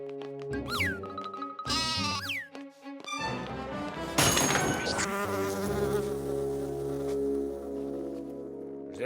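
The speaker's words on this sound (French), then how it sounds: "c'est une mouche géante! Elle est énorme!" Cartoon buzzing of a giant fly, a loud insect drone with wavering pitch that persists across the clip, layered over music and sound effects from an animated episode.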